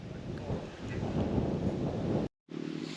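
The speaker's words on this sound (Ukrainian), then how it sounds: "Такий вітер з'явився звідкись. То почав вітер віяти чуть-чуть." Gusty wind roars loudly across the microphone at a fishing spot around four in the morning, dropping out abruptly for a moment before resuming at a lower, steadier rumble.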